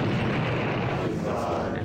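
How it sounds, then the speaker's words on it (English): A clumsy explosion in the Build-engine shooter Blood, a dense, loud, roaring burst of noise that holds steady for about two seconds without a clear attack or decay, with no speech over it. "Jank build engine explosion"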